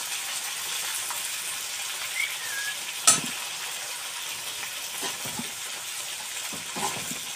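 Green chillies and turmeric fry in oil in a pan, giving a steady, close sizzle with a sharp metallic clink near the middle and light stirring scrapes.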